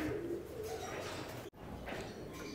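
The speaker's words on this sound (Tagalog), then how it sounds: "Pinalabas ko sila dito ngayon mga kalapatids sa landing board." Pigeons cooing on a loft landing board in the early morning, soft repeated low coos with faint chirps over steady outdoor ambience, broken by one brief sharp dropout midway.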